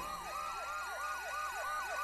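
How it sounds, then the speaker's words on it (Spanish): A house security alarm siren in the South Park: The Fractured but Whole video game wails in a steady, rapid up-and-down sweep that repeats continuously and evenly, loud and alone. "no recuerdo el código para desactivar la maldita alarma"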